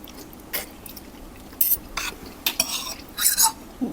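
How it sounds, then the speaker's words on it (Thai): Noodles stir-fried with dark soy sauce in a pan for a seafood rad na dish; a spatula scrapes and clanks against the pan in irregular close strokes over a faint background sizzle, with no voices. "ผัดเส้นกับซีอิ๊วดำก่อนนะ"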